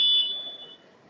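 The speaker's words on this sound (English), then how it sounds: "There's the buzzer, which sounds kind of more like a fire alarm than anything else" An ice hockey arena buzzer with a shrill, fire-alarm-like electronic tone blares at an exhibition game between periods, loud at first, then fading out within about a second.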